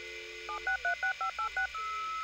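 Telephone dialing tones from the video game My Summer Car: a rapid run of about eight distinct keypad beeps over a steady background hum, brief and clear, with no talking.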